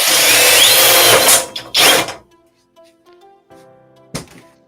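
A power drill drives a self-tapping screw in two loud, close whirring bursts that stop abruptly, followed by quiet clicks and a single sharp knock.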